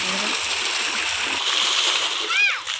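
Water splashes and pours in a steady, loud rush close by, with a voice briefly heard over it.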